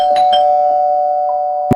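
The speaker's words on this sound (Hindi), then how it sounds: "अचानक डोरबेल हुई" A doorbell rings alone in a quiet room: a steady electronic chime tone, then a short sharp knock-like click at the end.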